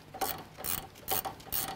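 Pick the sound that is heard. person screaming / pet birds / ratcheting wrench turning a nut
ratcheting wrench turning a nut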